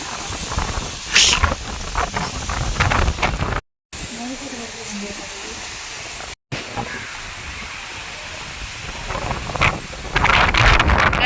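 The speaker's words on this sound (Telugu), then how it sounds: "వాన పడుతుంది" Steady hiss of heavy rain during a village windstorm, gusty wind buffeting the microphone and trees. Voices talk intermittently over the downpour, and there are two brief dropouts.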